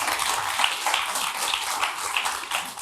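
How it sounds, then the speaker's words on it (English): Audience applause at a corporate conference panel in Houston, a dense steady wash of many hands clapping throughout, fairly loud and continuous with no pauses. "Give everyone a round of applause"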